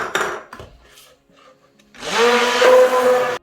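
An electric blender grinds soaked dried ingredients and spices into a smooth paste for Medan-style fried radish cakes, running as a loud steady motor whine for the last second and a half after some brief clattering and handling noises.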